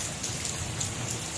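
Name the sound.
rain falling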